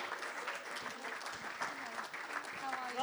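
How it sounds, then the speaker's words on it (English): An audience claps steadily and continuously at a Cheltenham Festival horse racing preview event, with voices faintly mixed in under the applause. "keep the clapping going, and they might come a bit faster"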